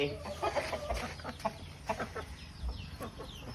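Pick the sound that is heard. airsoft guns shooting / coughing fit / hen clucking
hen clucking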